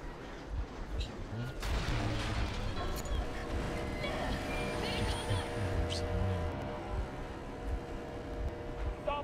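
Warning gunfire in the video game Metro Exodus, a few sharp shots and booming reports over a rumbling engine and a loudspeaker voice, with talk around.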